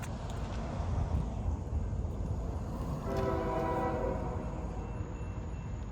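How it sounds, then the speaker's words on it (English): A CSX freight train in downtown Winterville sounds its horn about halfway through, a sustained multi-tone blast over the steady low rumble of the train and wind. "Nice horn on that one."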